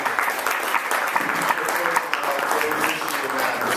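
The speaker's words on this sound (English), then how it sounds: "Let's give another round of applause to" Sustained applause from a crowd, dense clapping at steady volume throughout.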